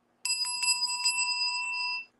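An Art Deco bell with a butterscotch Bakelite handle rings once with a bright, sustained metallic tone and a quick rattle of strikes at the start, then decays steadily for about two seconds, alone and close.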